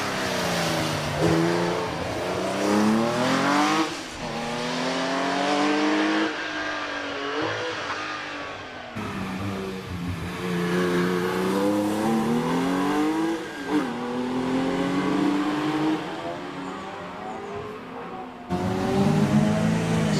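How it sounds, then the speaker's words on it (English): An MGB Roadster makes a hill climb run at Prescott, the engine revving hard through rising and falling gear changes with repeated sweeps of pitch, loud and close, with brief shifts between bursts of acceleration. "that's Stephen Fenner in the MGB Roadster"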